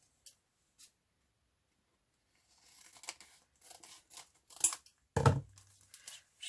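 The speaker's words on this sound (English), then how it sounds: "I can actually cut the bag down." Scissors snipping through a small clear plastic bag holding a forget-me-not embellishment for a collage: quiet close crinkles and a few crisp cuts, ending in one louder sharp snip, with no voices.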